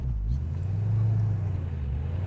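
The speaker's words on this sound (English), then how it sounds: "Whoop, there's a car." A car rumbles past close by, a steady low engine drone swelling slightly then holding, with no talking.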